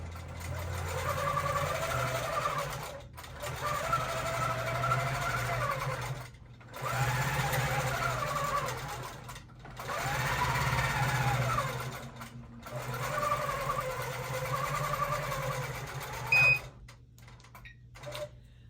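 Long arm quilting machine stitching a pantograph pattern, its rapid needle chatter running in five sustained bursts separated by brief pauses, close and fairly loud with a low motor hum underneath.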